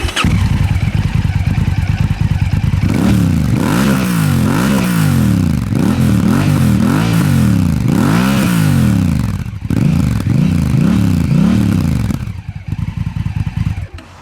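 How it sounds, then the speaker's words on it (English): A Honda Africa Twin DCT motorcycle exhaust revs repeatedly in loud, rising and falling bursts, a throaty burbling roar that drops off near the end. "how badass that exhaust sounds"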